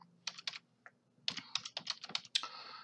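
Quick, light keystrokes on a computer keyboard as an IP address is typed, a few short bursts of close taps with brief pauses between, alone in a quiet room.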